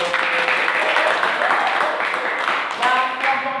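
A group in a classroom session claps after a team's score is announced, a brief burst of applause with voices talking over and around it.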